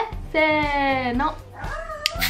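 A dog whines at home with a long, high, wavering cry, and a shorter whimper follows. Someone speaks Japanese nearby.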